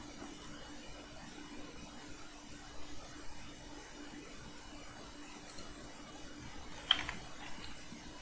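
Soft typing on a computer keyboard, faint keystrokes that pick up briefly toward the end, against a low room hum. No talking.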